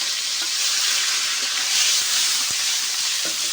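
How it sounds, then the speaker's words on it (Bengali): Spice paste sizzling and frying in hot oil in a wok for a fish curry, a steady loud crackling hiss throughout with occasional soft stirring knocks. "দিয়ে এবার এখানে বেটে রাখা সব মশলা আছে, একবারেই মশলাগুলো দিয়ে দেব, দিয়ে কষাই ভালো করে ভেজে নেব"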